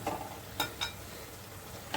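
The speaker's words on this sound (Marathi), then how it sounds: "काजू थोडीशी तुपात फ्राय." Cashews frying in ghee give a soft, steady sizzle, with a few sharp clinks of a spoon against the pan during cooking.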